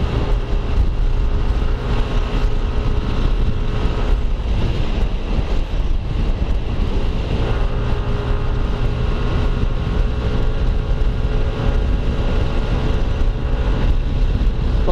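Yamaha NMAX scooter accelerating uphill onto a highway, a steady loud engine drone mixed with heavy wind rush throughout, no pauses.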